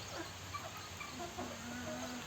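Chickens cluck softly inside a poultry shed during the rainy season, with a few short, faint calls scattered over a quiet background and no voices.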